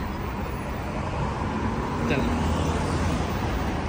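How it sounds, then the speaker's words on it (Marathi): Sunday road traffic in Dubai makes a constant, dense roar of cars and larger vehicles passing close by, with no breaks across the whole stretch. "आज संडे असल्यामुळे थोडा रश पण आहे, ट्रॅफिक आहे."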